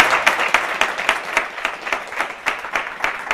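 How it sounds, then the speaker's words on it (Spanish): Neighbours applaud from crowded apartment balconies along a street in Andalusia, a steady patter of many hands clapping with sharper claps rising at a fairly even rhythm, moderately close and without talk. "Yo creo que un pequeño aplauso le podemos regalar"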